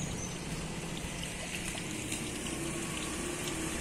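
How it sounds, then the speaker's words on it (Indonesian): Light drizzle falling on a street after rain, a steady soft hiss of fine drops spread evenly throughout, faint and constant with no voices. "Tinggal gerimisnya doang sekarang"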